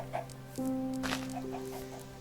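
Chickens cluck in a video game, a few short, close clucks sounding over steady electronic game tones.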